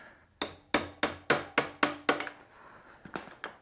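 Several sharp metallic hammer taps on a motorcycle's rear brake line fitting, a steel braided line on a DR650: seven evenly spaced close knocks, then a brief pause and three lighter taps.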